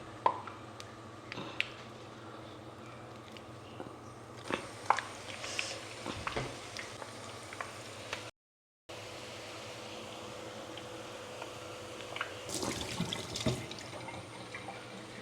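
Jackfruit vada fry in hot oil in a Kerala village kitchen, a steady hiss and crackle of bubbling oil throughout with brief surges as pieces drop in, a short silent gap midway, and no talking.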